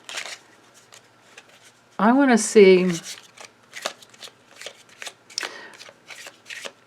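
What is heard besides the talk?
shuffling tarot cards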